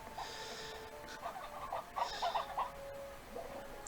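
Chickens clucking inside a coop in the video game Slime Rancher 2: soft, scattered clucks that cluster into a short burst midway, heard faintly over steady game ambience with no talking.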